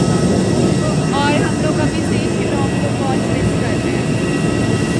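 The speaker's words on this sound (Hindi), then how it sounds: "और आपको पीछे आवाज आ रही होगी इंजन की" Jet engines roar steadily at Delhi airport, a loud continuous broadband rumble filling the background throughout, with faint chirping tones on top and no clear talk.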